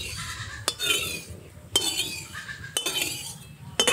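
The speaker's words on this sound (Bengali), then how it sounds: "খুন্তি দিয়ে তেলটা একটু ছড়িয়ে দেই, যাতে মাছ ভাজার সময় লেগে না ধরে।" A spatula spreads mustard oil around a wok before frying tengra fish, four sharp metallic scrapes and clinks spaced about a second apart over a faint background hiss.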